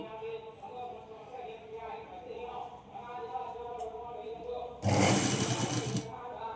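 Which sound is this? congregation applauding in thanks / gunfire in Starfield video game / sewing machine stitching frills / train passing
sewing machine stitching frills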